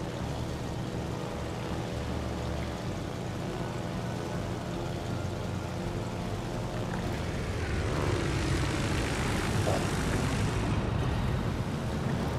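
Steady, droning propeller engines of torpedo bomber aircraft in the naval video game World of Warships: Legends, a continuous hum that swells slightly louder partway through with a faint wash like sea spray.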